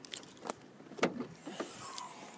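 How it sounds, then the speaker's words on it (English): A car boot is opened with a few clicks and a latch clunk, followed by a smooth motorised whir as the lid rises, close and clear with no voices. "Opening it up the boot."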